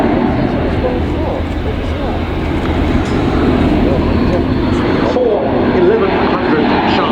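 A military transport aircraft with four TP400 turboprop engines at an airshow, a loud continuous droning roar that stays steady throughout, heard alongside a commentator speaking over the public address.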